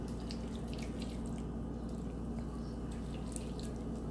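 Tap water runs steadily into a sink, rinsing raw chicken breasts, a continuous close splashing hiss with small drips and no voices.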